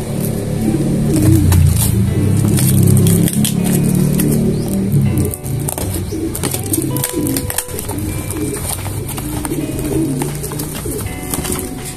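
Pigeons coo in a loud, close, continuous low murmur with scattered wing flutters and rustling among show birds, with no talking.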